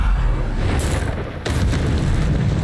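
Bombarda spell exploding in Hogwarts Legacy, two close booming blasts roughly half a second apart over a constant heavy rumble, loud and without talk.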